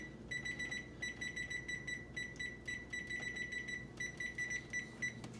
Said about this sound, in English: I'm gonna set my timer here real quick